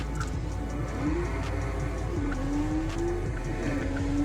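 Car racing in the video game Forza Horizon, a steady engine drone rising in pitch through gear changes, with faint tire and track noise, even and moderately quiet.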